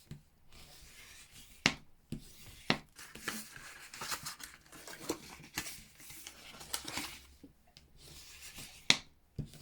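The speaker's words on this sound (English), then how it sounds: "Then we fold it, and the burnishing is to make those nice and crisp." Folded card score lines being burnished, a faint, close rubbing and scraping with a few sharp ticks and crisp creasing sounds scattered throughout.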